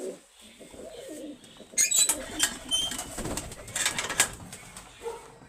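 Red cheena pigeons in a loft, soft low cooing, then a flurry of wing flaps and rustling in the middle, with more cooing toward the end.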